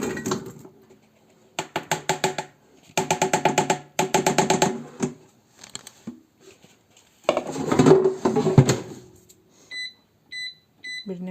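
Potato pieces tossed with a little oil in a bowl for an air fryer, giving bursts of clattering, scraping and rattling in several rounds, followed by a few short electronic beeps near the end.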